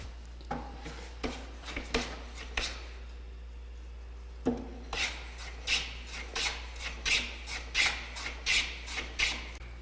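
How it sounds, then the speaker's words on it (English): Hand plane strokes along the edge of a wooden board for a candle box, rhythmic rasping swipes, a few spaced early then a quicker even series of about ten, close and clear with no talking. "the tendency in hand planing is to push down to begin with and push down on the other end"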